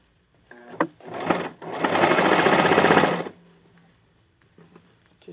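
A sewing machine runs a zigzag stitch on cotton children's underwear: short stop-start bursts, then a steady, loud whirring run of about a second and a half. It ends abruptly, followed by faint handling noises.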